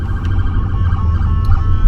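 Ambulance siren wailing outside near a gym, loud and continuous with rising and falling tones over low rumbling traffic, no talk over it.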